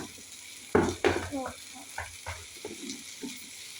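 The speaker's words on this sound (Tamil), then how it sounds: "இப்போ நல்லா வதக்கினாலே உங்களுக்கு வந்து ரெடி ஆயிடும்." Masala gravy sautés in a pan: a soft sizzle sits under repeated spatula scrapes and clinks against the metal, close and fairly loud, in irregular bursts.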